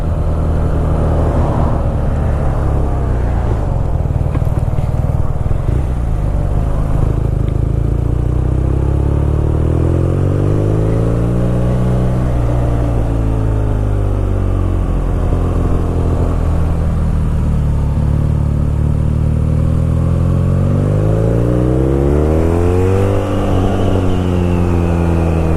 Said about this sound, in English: That boxer engine's got a nice sound to it.